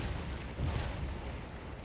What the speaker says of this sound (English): The artillery's firing some canister into the Federals here to help out